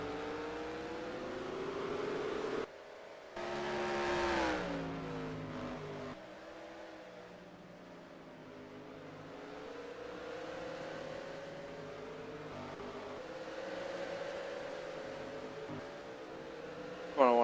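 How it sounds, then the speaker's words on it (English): Several race cars roar past over a hill at Sonoma Raceway in a racing game, engines revving and rising and falling as they crest and pass, a steady mechanical drone with a brief quieter gap early on. "I want to watch a few cars go over this hill here."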